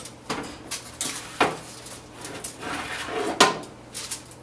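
Baked chicken in a pan goes back into a home oven, with several clattering knocks and a metallic clank of the pan and rack, mostly close and brief, with quiet pauses between them.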